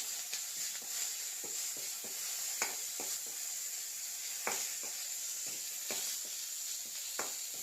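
Curry leaves frying in oil in a pan, a steady bright sizzle with scattered crackles and pops throughout, close and fairly loud with no voices.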